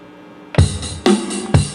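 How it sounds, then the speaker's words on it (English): A Zoom R8 multitrack recorder's built-in drum machine plays a basic rock shuffle beat, three punchy kick-and-cymbal hits about half a second apart, close and clear with no talk. "So it's got a little drum machine on here"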